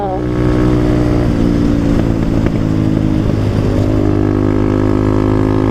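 Steady, loud engine drone from a dirt bike's exhaust, revving on a forest trail road with a strong low harmonic rumble, rising and falling pitch in the middle as the throttle is worked, continuous throughout.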